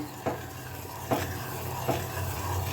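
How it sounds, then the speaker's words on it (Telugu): Milk coming to a boil in a pot is stirred steadily to keep it from sticking to the bottom, with three distinct scraping strokes over a low, continuous bubbling simmer. "పాలు కాగుతున్నాయి కదండి ఇది అడుగు పట్టకుండా కలుపుతూ ఉండాలండి"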